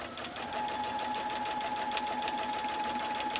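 A sewing machine stitches a couple of stitches forward and back to secure the edge of binding on a hexagon mug mat, humming steadily with a fast, even mechanical patter, close and alone.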